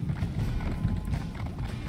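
A horse mount gallops in Elder Scrolls Online, its hoofbeats drumming in a fast, steady clip-clop rhythm that stays loud and close for the whole stretch.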